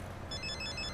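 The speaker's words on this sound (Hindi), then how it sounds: "अरे भद्रा का फोन आ गया।" A telephone rings with a bright, repeating electronic chime in short bursts over a low background hum, close and clear, no talk.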